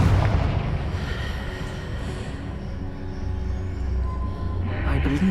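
Confringo blasting spell exploding in Hogwarts Legacy, a booming artillery-like blast that rumbles at the start and decays into a lingering low roar, with a fainter burst near the end.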